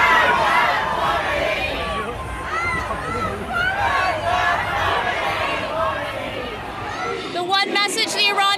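Large crowd of Iranian community marchers at a protest rally, a dense continuous babble of many voices with shouts and chatter throughout, loud and close, with sharper cheering near the end.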